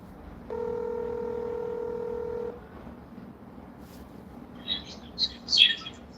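Telephone keypad tones sound as a steady dialing beep on a phone line for about two seconds, followed by quieter line noise and a few faint chirpy bursts near the end, without clear speech.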